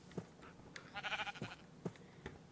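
A sheep bleating in the video game Minecraft, one short wavering bleat between faint footstep-like thumps, quiet and close.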